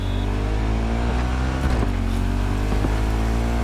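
A motorcycle ridden in Cyberpunk 2077 hums along at a steady, loud engine drone, with a few brief clicks and knocks over the continuous tone and no speech.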